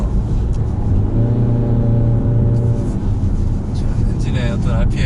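A 2018 Peugeot 5008's engine heard from inside the cabin, a low steady drone climbing as revs rise during driving, under continuous background road noise.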